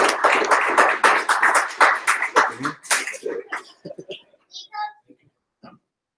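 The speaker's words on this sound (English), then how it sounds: "let's give them all a round of applause" An audience at a lightning-talk tech meetup claps loudly over several seconds, the applause thinning and dying away into scattered claps and murmuring voices.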